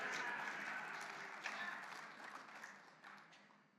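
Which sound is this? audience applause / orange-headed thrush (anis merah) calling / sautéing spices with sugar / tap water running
audience applause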